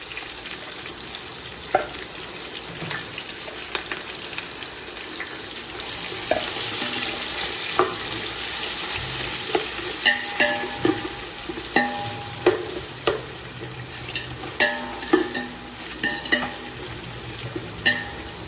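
Chopped onions fry in a pan for mutton biryani, a steady broadband sizzle that grows louder midway, with repeated clinks and scrapes of a spoon stirring against the pan.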